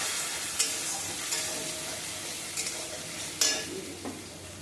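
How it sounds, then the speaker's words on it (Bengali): Eggplant and peanuts stirred and fried in a pan, a steady close sizzle broken by a few sharp scraping stirs, with no talking. "আজকে আমি চীনাবাদাম দিয়ে বেগুন রান্না করছি।"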